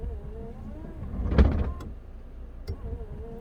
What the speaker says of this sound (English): Oh, I hear a click. You got a relay or something in there going on.